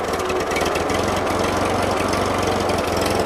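Four-cylinder engine of a 1941 Ford 9N tractor idling steadily up close, a loud, even, knocking chug that holds constant throughout.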